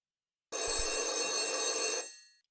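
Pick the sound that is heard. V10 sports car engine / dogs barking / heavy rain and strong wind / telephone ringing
telephone ringing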